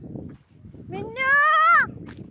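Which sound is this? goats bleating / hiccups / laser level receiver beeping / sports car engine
goats bleating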